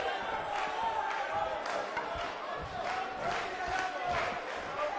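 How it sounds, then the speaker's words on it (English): Video game arena crowd at a wrestling event, a dense, continuous roar of cheering and shouting with rhythmic swells, heard at a distance and fairly even in level throughout. "We have a sold-out, record-setting crowd here for BCW tonight."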